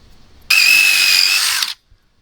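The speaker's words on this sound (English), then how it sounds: "I'm not gonna burn out my drill" A cordless power drill spins up sharply and runs at a steady, high-pitched whine for just over a second, close and loud, then winds down and stops, with quiet background before and after.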